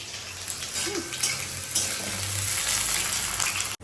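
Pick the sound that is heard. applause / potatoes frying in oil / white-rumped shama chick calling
potatoes frying in oil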